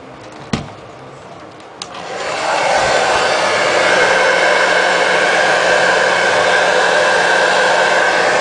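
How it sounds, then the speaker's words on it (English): A hair dryer on high heat shrinks heat-shrink tubing on speaker cable: a couple of sharp clicks, then the blower roars up into a loud, steady whoosh close by. "You're just going to take a hair dryer, hit up the heat shrink until it shrinks down to the right size."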